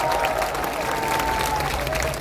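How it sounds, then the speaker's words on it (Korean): An audience at a talk event claps together in sustained applause, a dense, loud patter that runs steadily with a faint tone humming underneath. "박수 한번 해, 박수 한번."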